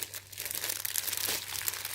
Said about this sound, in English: So it comes with this nice plastic bag.